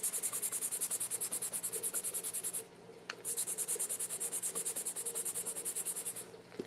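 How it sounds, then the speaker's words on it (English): Rhythmic, close back-and-forth rubbing strokes while a finish is buffed and smoothed onto handmade vintage-style Christmas ornaments. The brisk scratchy passes repeat steadily, with a short pause partway through. "I'm just buffing on and then just kind of smoothing it out."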